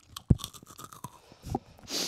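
Crunchy cereal chewed up close in a quiet room, with a few sharp crisp bites and crackling crunches spread over about two seconds, ending in a longer rustling crunch.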